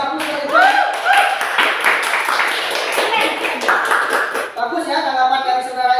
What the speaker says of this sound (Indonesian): Oke, kasih aplaus untuk Irfan.